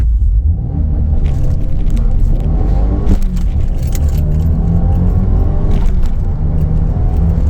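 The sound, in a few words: Subaru WRX COBB Stage 2 launch control acceleration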